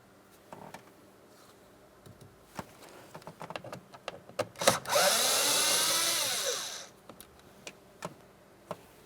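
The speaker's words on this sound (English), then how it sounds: "we're going to be using a T20 to remove each of those" A T20 driver removes the bolts from a rear sliding door trim panel on a 2008-2016 Chrysler Town & Country. Scattered clicks and taps lead into one sustained, loud whir of a powered driver lasting about two seconds, followed by more light clicks.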